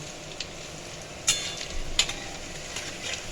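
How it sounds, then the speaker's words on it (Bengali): Potato and egg pakora fritters frying in hot oil for a Bengali-style curry, a steady close sizzle throughout with a couple of sharp crackles and faint utensil taps. "আর অপর দিকেও আমি করে নিচ্ছি, একটু লাল লাল করে ভেজে এগুলোকে তুলবো।"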